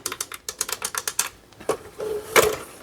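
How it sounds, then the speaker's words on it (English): Small buttons on an American DJ 18P-HEX LED light fixture clicked one after another, a quick run of sharp, close, evenly spaced clicks followed by a few slower, heavier presses. "The little buttons click."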